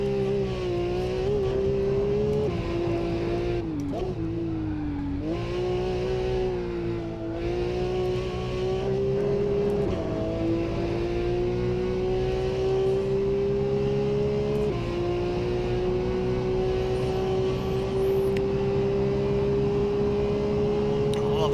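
A Porsche sports car engine revs hard toward its red line, a loud, steady, rising engine whine that holds near the top before hitting the rev limiter, heard close up.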